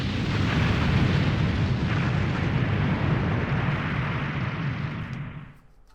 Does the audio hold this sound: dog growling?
no